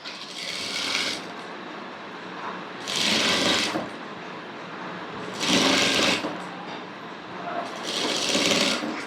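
Sewing machine stitching a puff sleeve for a designer blouse: four close, loud bursts of rapid stitching separated by short pauses.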